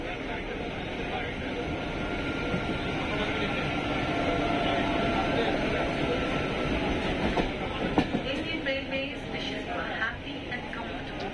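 Loud rumbling rattle inside a moving train near the door, shaking hard, with rhythmic clatter over the rails and voices mixed into the din.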